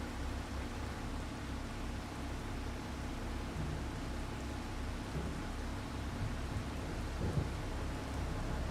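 In the Farming Simulator 25 video game, a thunderstorm rolls over a spinach harvest: a steady hiss of heavy rain, with low thunder rumbling underneath and a stronger roll near the end.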